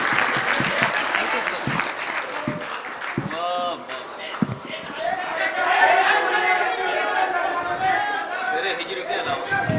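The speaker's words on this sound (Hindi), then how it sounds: "जरा सा तालियां बजा दीजिए" Clapping from an audience at a mushaira poetry gathering in Bulandshahr comes in scattered bursts and then swells, mixed with crowd chatter and someone speaking over it.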